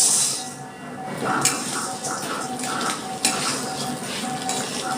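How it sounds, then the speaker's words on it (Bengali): Chushi pitha made from flour are fried in ghee in a wok, with metal utensils clinking and scraping against the pan over a soft, uneven sizzle, and a few sharper knocks along the way. "এবার আমি এটা একটু ঘিতে বেজে নেব"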